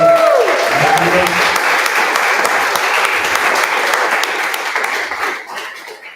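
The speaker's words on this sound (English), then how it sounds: "so please a round of applause." A crowd at a Lisbon web development bootcamp demo day gives sustained, even applause that holds steady for several seconds, then tapers off near the end.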